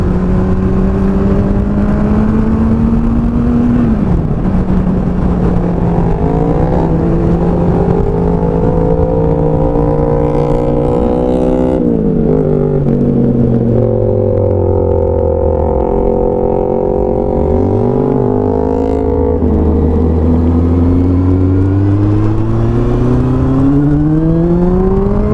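Kawasaki Z800 motorcycle engine heard while riding, a loud continuous drone that rises and falls in pitch through gear changes and throttle swells, with a brief dip and rev blip near the end.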